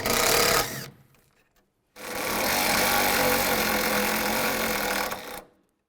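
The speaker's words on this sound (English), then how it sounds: "use a 10mm socket, take this bolt out, and then the one on the other side of the battery" A ratchet with a 10mm socket works bolts loose on a 2002-2009 Chevy Trailblazer, a short loud burst followed by a pause and then a longer steady run of fast clicking that cuts off abruptly.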